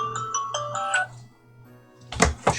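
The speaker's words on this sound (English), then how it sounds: "Shut up, phone." A phone rings in Final Fantasy 8 Remastered, a repeated electronic ringtone pattern that pulses about four times before stopping, followed by a pair of louder thumps near the end.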